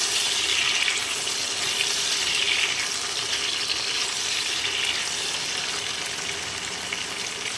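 Cut potatoes sizzle steadily in a pan of oil with whole cumin and whole spices, lightly salted; a loud, continuous close-up frying hiss with no voices.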